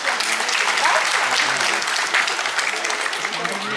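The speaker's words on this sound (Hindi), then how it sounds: "एक बार जोरदार ताली हो जाए इस बारे." An audience claps loudly and steadily at an awards ceremony to welcome a minister, a dense continuous wash of applause with no letup.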